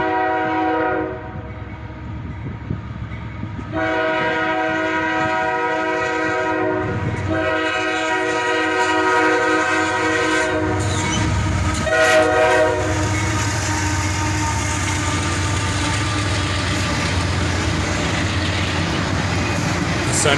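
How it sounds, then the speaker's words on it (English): A CSX freight train led by an SD70AH Tier 4 locomotive, the Spirit of West Virginia, sounds its loud multi-tone horn in repeated long blasts close by, over the steady rumble and clatter of passing cars. "This train is led by an SD70 AH Tier 4 and CSX number 1,"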